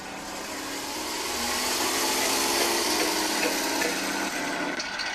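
Engine driving four-shaft gearboxes opened up to full throttle, a dense whirring roar with a rasping mechanical edge that swells in the first two seconds and then holds steady and loud.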